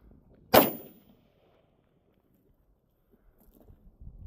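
A single sharp, loud gunshot from a 7.62x25mm Tokarev pistol firing a 110gr SJHP load outdoors, followed by a quick decay into near silence and faint handling noises.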